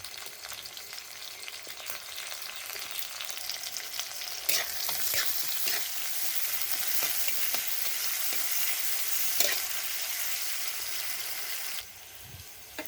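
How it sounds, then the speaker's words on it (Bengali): Onions frying in a pan for a morning meal, a steady soft sizzle broken by scraping stirs and occasional clatters, quieter at the very end, with no talking. "পেঁয়াজটা তো ভাজা হয়ে গেছে"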